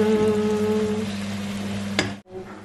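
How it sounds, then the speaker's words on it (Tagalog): Garlic and onion sizzle in a hot pan, a steady soft crackle with a faint tonal hum underneath, then a brief clatter and a short drop to near silence. "Igisa ang bawang at sibuyas."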